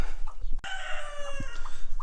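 A bantam hen with two chicks in a chicken coop, clucking and crowing-like calls close by, with a sharp knock partway through and short bird calls scattered over a low background.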